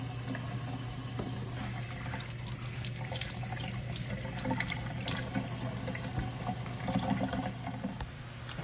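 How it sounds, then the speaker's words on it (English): Tap water runs steadily into a sink while mushrooms are rinsed clean of dirt for a veggie lo mein, a continuous close splashing stream with a low hum underneath and no talk. "I wash my mushrooms because sometimes they still be having dirt on them."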